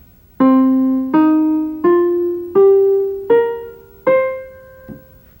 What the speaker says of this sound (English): we need to learn the blues scale